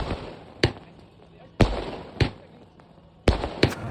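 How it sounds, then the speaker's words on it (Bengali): Diwali firecrackers burst outdoors in about four sharp, crackling bangs at irregular intervals, with faint voices in the background. "ধামাকা শুরু হয়ে গেছে। 4-5 বার ফেটেছে, এখনও 25 বার মতো বাকি আছে।"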